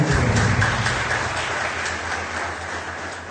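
A crowd at a political rally breaks into dense, sustained clapping, loud at first and slowly easing over a few seconds, with no voices over it.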